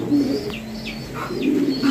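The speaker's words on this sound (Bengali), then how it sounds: "আমরা এই মুহূর্তে দেখতে পাচ্ছি এখানে চমৎকার আরো এক জোড়া কবুতর আছে।" Pigeons, one of a pair of fancy breed birds kept for sale, coo in soft repeated rounded calls close by, with a few brief chirps over a steady low hum and no talking.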